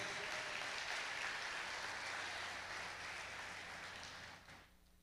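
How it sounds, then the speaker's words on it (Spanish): A church congregation applauds in praise of Jesus, a dense steady wash of clapping from many hands that holds for several seconds and then fades out near the end. "si puede darle ese aplauso, dáselo a él"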